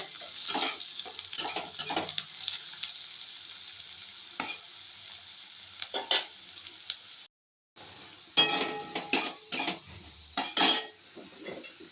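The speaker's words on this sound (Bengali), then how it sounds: "পেঁয়াজও প্রায় ভাজা হয়ে এসছে।" Onions with crushed garlic frying in a pan, a low sizzle under repeated sharp clinks and scrapes of a spatula stirring against the metal, with a brief pause midway, no talk.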